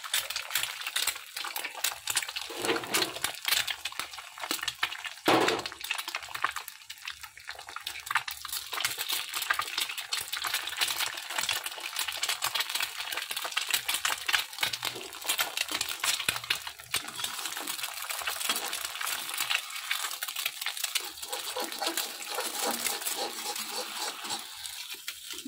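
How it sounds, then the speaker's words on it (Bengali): Scrambled egg frying in hot ghee in a wok (kadai), a dense, continuous crackle with fine clicking spatter and occasional utensil clatter that holds at a steady level throughout. "ডিমটাকে আমরা ঝুড়ো করে ভেজে নেব।"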